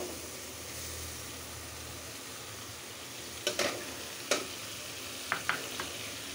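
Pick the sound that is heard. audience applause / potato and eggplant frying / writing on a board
potato and eggplant frying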